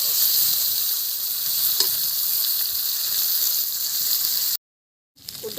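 Pieces of a large grass carp fry in hot oil, a dense, loud continuous sizzle up close that cuts out briefly near the end before resuming more faintly.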